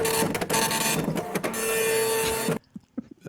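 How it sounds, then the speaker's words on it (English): Fax machine sound effect: a loud, continuous electronic screech and warble with sharp clicks, cutting off abruptly into quiet. "You got that fax machine noise queued up?"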